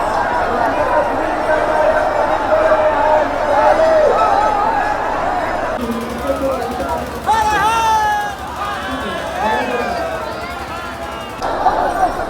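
A dense crowd of devotees surges and jostles as the temple gate opens at Gupta Dham during Mahashivratri, a loud continuous hubbub of shouting voices and babble with rising excited cries midway.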